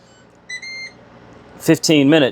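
A kitchen timer emits a short series of high electronic beeps while being reset from 15 to 25 minutes, followed by a voice talking loudly nearby.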